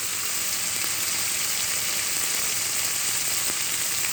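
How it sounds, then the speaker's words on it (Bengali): Spices fry with onion and garlic in oil for a tilapia curry, making a steady, close, continuous sizzle with no talking. "পেঁয়াজ রসুনের সাথে আমি হালকা মশলাটা একটু কষিয়ে নিলাম।"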